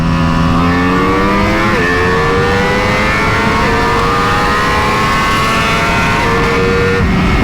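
A 2024 BMW M1000 XR motorcycle accelerates hard in a race against a Ducati Multistrada V4 RS. The engine roars loud and close without a break, its pitch climbing through gear changes over heavy wind rush.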